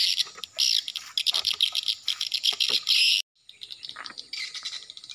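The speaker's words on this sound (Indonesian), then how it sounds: "di sini tempatnya beribu-ribu walet di sini" Many swiftlets at swiftlet nesting houses chirp in a dense, continuous shrill chorus of rapid twittering calls, loud and close, briefly dropping out before resuming.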